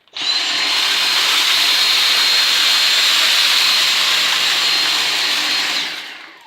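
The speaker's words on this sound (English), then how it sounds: "So let's test it on rice, and I'm going to go a bit faster because it's not rubbed in." Dyson V6 cordless vacuum with its direct drive head sucking up spilled rice, a loud, steady high-pitched motor whine with hissing airflow that holds evenly for several seconds before winding down.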